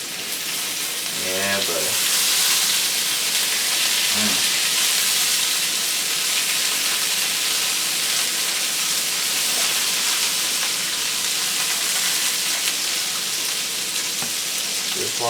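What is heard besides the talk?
lemon juice sizzling on frying rainbow trout fillets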